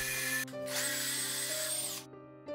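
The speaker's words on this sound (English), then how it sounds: "pre-drilled holes for the screws to attach" A power drill pre-drills screw holes in 2x4 lumber, whining loudly close up in one sustained burst that rises in pitch, then stops and briefly spins again.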